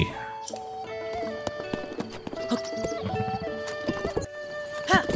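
Rhythmic clip-clop of horse hooves with a short whinny near the end, over game music tones and a voice speaking, in Zelda: Breath of the Wild.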